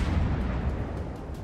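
Naval gunfire from a French Duguay-Trouin cruiser battle in World of Warships, a dense low rumbling boom with continuous heavy low-end roar across a short stretch, loud and without speech.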